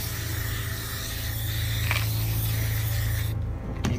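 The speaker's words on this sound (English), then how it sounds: "spray it with some good old Lynx" Lynx deodorant aerosol sprayed onto a heap of nettles, a steady close hiss that runs continuously for several seconds over a low hum, with no talking.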